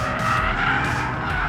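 An Abarth 124 Spider with a limited-slip differential slides, its tires squealing loudly and continuously over a throaty engine roar at close range.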